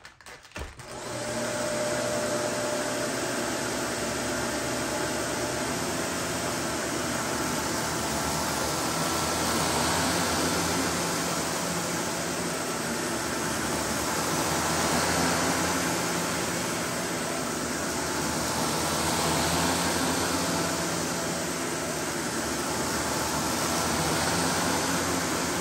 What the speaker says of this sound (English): I can hear the powder going through the vacuum